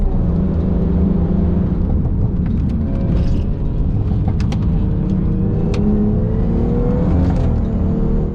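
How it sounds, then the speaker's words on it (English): A car fitted with track tyres drives at speed on a circuit, its engine droning steadily with shifting harmonics and constant road and tyre roar filling the cabin throughout, with no talking. "You can definitely tell they're a track tyre, there's more noise and more feel as well."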